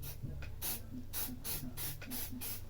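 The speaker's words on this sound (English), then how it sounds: "just a light spray" Several short hissing bursts from a spray bottle lightly spraying a guitar neck, about eight quick pumps in a steady rhythm, close by and fairly soft.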